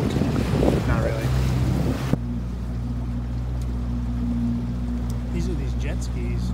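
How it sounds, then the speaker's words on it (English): Jet skis on the Stikine River give a steady, droning engine hum over wind and water noise, with louder rushing noise at the start that then settles into an even tone. "These are these jet skis. They come up here."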